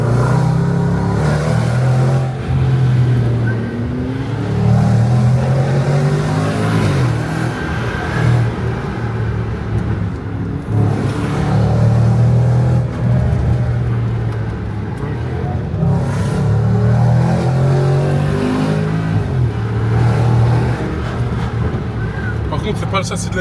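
A loud car engine climbs uphill through Monaco's streets, droning and surging in steady waves under repeated talking from people inside the car.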